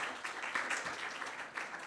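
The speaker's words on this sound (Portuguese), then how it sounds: "Palmas para ela." Crowd applause at a government panel event on national data strategy, a soft, dense patter of many hands clapping at a distance, steady throughout with no voices on top.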